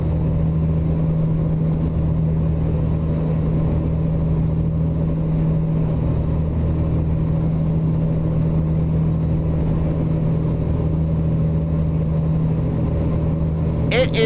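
Steady low idle rumble of a modded International LoneStar truck engine in American Truck Simulator, a constant droning hum throughout, with talking over it.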